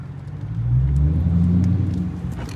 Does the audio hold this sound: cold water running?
no